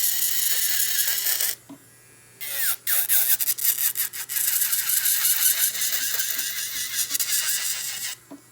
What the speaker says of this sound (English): I'm gonna start removing these stones.